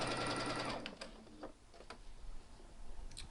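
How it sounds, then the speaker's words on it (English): A sewing machine stitching a hem on a New Look 6575 garment, an opening burst of fast rattling stitches that slows into scattered ticks and clicks, quiet and close with no talking. "I'm just keeping an even hem stitching line."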